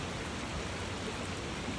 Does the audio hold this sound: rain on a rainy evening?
yes